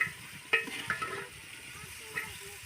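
Okra (bhindi) frying in a pan in a village kitchen gives a soft, steady sizzle, with a few light clinks of stirring near the start, faint and close.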